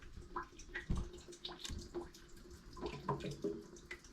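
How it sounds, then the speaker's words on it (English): Water trickles and gurgles steadily inside a hot water tank with a leaking pressure relief valve, with soft irregular knocks and drips sounding close by. "It sounds like a little knocking. That means the water's coming down and it's gurgling"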